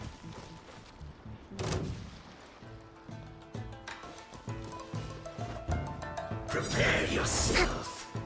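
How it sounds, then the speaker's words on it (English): Explosion in Genshin Impact, a sharp crash followed by rumbling blasts and a louder burst near the end, mixed with game music and effects. "The explosion was roughly the size I expected."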